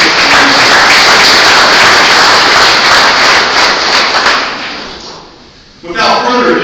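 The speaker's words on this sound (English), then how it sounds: "Give yourself a round of applause." Audience applause at a water-themed speaker event, a dense wash of clapping that fills the room, then tapers and briefly fades before a fresh burst of clapping rises again at the end.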